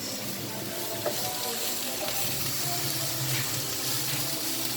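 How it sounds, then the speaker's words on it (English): Sweet corn veg fried rice is tossed and mixed in a hot pan, giving off a steady, loud sizzle with faint scraping underneath that continues without a break. "we keep mixing properly"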